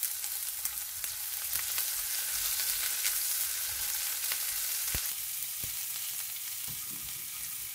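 Chopped onions frying in hot oil with mustard and fennel seeds, a loud continuous close-up sizzle with a few spoon knocks and stirs near the end, no voices.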